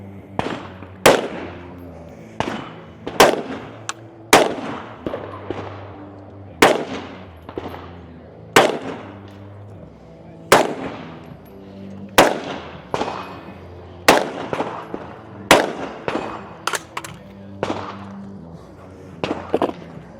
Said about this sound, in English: We'll start with his rifle shots.